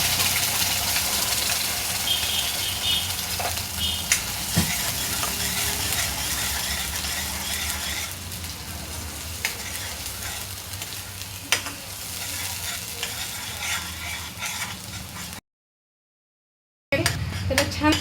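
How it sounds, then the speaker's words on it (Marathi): Spiced masala paste for Maharashtrian chicken rassa sautés in oil, a steady close sizzle with scraping stirs and occasional utensil knocks, broken by a brief silent gap near the end. "हे वाटण आपण तेल सुटेपर्यंत छान परतून घेऊया."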